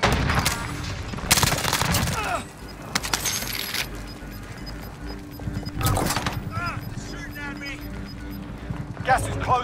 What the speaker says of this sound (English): I'm taking fire. Taking shots.